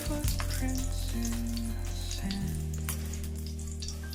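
Asafoetida crackling and sizzling steadily in a spoonful of hot oil in a pan, a busy, close frying hiss with no talking.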